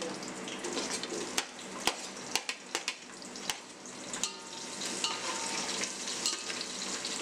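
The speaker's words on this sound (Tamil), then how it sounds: "கொஞ்சம் பொன்னிறமா வர வரைக்கும் வெங்காயத்தை வதக்கிடலாம்" Onions sautéing in a pan with whole spices like fennel and cloves for mushroom biryani, a steady sizzle broken by sharp clicks of a spatula stirring against the pan, close and moderately loud.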